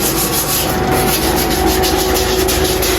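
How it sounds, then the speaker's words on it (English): A sander grinds loudly and steadily across a shower floor being resurfaced, a dense continuous rasp with no pauses, close to the listener. "Right now we are sanding down the shower floor"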